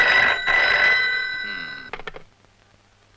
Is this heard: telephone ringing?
yes